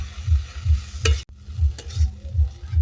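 Bean mash with chopped onion stirred and fried in a wok, with a rhythmic low scraping pulse about three times a second over a soft frying hiss and one brief sharp clatter, close and continuous.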